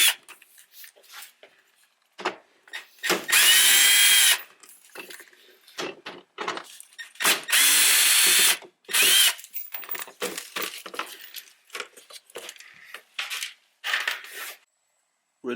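Short, loud whirring bursts of a power tool spin the 10mm bolts off the undercover of a 2020 Toyota RAV4, stopping and starting between quiet pauses and small clinks of metal.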